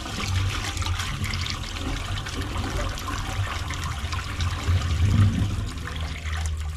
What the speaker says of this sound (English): flush that toilet again, please.